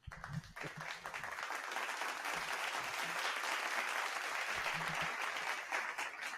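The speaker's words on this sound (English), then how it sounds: "I'm going to play another applause." A recorded applause sound effect plays during a wrestling podcast, a steady wash of distant crowd clapping at low level, with a brief voice at the start.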